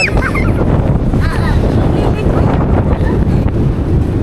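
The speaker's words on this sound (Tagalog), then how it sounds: "Grabe, lakas ng hangin, no?" Strong wind buffets the microphone with a constant loud roar, and voices call out faintly beneath the gusts.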